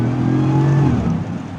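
A 2025 Land Rover Defender 130 V8 engine and exhaust heard from inside with the windows down, a loud, deep, steady drone with rising harmonic tones as the revs climb, then easing off.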